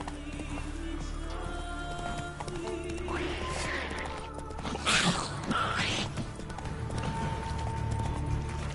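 Roach, a horse in The Witcher video game, gallops with steady hoof clip-clops under game music, a whinny rising midway and a voice speaking briefly.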